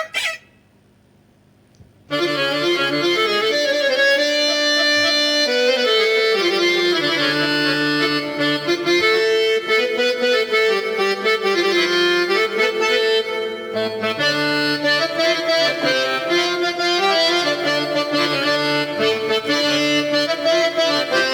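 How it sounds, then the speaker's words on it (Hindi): Harmonium voice on a Korg Kross 2 keyboard playing a reedy, sustained melody with chords after a brief near-silent opening, loud and continuous with no talking. "ये हारमोनियम की आवाज है।"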